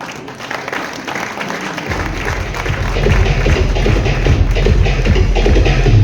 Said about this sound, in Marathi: जरा टाळ्या दे जोरात